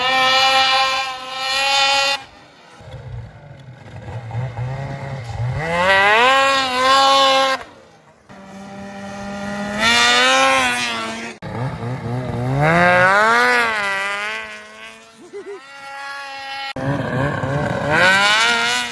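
A snowmobile engine revving hard during a wheelie attempt on thin snow, repeated loud bursts of rising engine pitch separated by short drops, close and without talk.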